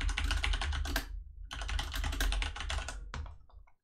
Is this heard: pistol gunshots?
no